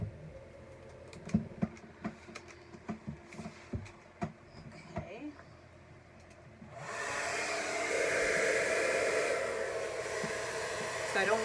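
A hair dryer starts up partway through and blows steadily, drying paint on a petal, after a stretch of scattered taps and clicks from handling; no talking.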